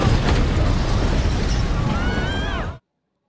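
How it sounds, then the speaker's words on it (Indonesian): A house explodes in a film, a loud sustained roaring blast with a rumbling tail that ends abruptly. "dan tak lama kemudian rumah itu pun meledak."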